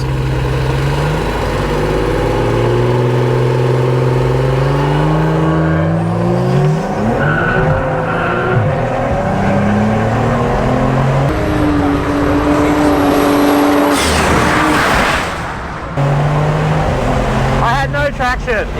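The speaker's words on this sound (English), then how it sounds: "That was a gentle launch, and it spun." A 600 whp BMW N54 with a DCT gearbox launches on an unprepped surface, its engine note climbing in rising harmonics with wheelspin and tire squeal, loud and close. People talk over it partway through.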